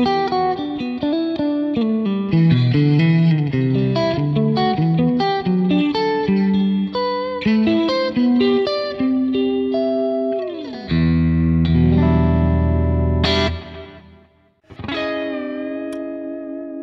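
Electric guitar played through a Tonex amp tone with reverb and delay added from an Axe FX: a run of picked melodic notes and chords with echoing tails, ending in sustained, ringing chords, loud and alone.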